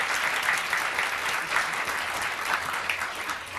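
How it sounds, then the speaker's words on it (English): Audience applause fills a school quiz-show playoff hall, steady and dense clapping from a full room, close and continuous throughout with no voices over it. "Everybody claps."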